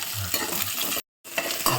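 Onions and tomatoes sizzling and being stirred in a pan, with a brief gap of silence midway before the frying resumes.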